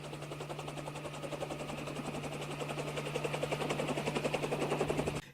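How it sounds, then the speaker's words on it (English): A helicopter landing nearby, its rotor chopping in a rapid, steady pulse, growing slightly louder and closer, with a constant low hum underneath. "I think there might be a helicopter landing outside."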